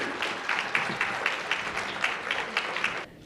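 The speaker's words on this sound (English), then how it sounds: "So I want everyone to give a round of applause for Dola." Audience applause at a community college scholarship fundraiser as a speaker is welcomed to the stage, brisk, fairly close clapping from a crowd with distinct claps standing out, ending abruptly.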